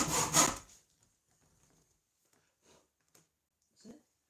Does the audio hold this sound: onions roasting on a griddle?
no